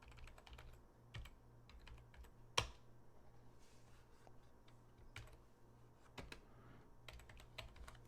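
Typing on a computer keyboard: a steady patter of light key clicks with one sharper louder keystroke early on, close and quiet, with no talking.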